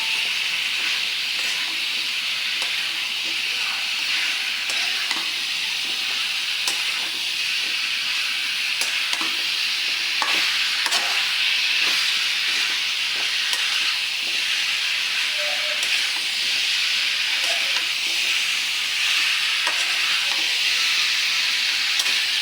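Spices and taro stolons stir-fried in a pan for a curry, giving a steady close sizzle and hiss with occasional stirring scrapes, no talk.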